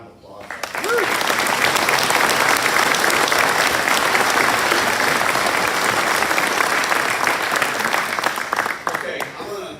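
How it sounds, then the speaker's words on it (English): Sustained audience applause at a company safety recognition event, a large crowd clapping loudly and steadily for nearly ten seconds without a break before fading slightly at the end. "Can we have a round of applause?"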